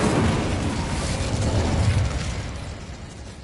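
The Incendio fire spell cast in Hogwarts Legacy, a loud broadband fiery burst that roars steadily and then tapers off over a few seconds with no talk.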